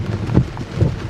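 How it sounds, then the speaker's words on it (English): Heavy rain pounds steadily on a parked Tesla car, with a dense, close wash of drumming on the body and roof that swells in two louder bursts and carries no speech. "It's raining pretty heavy."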